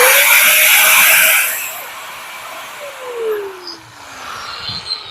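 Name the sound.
industrial machine for cutting wood, bamboo and iron running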